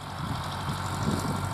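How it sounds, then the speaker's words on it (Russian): Tractor engine running steadily while pulling a two-body garden plough through soil, a continuous low rumbling drone heard close and fairly loud for a short stretch, with no voices. "трактор один раз проходит в холостую, выкапывает"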